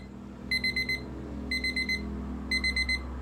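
Alarm clock ringing indoors in three evenly spaced bursts of rapid, shrill electronic beeps, each burst made of four quick pulses, loud and close over a low steady hum.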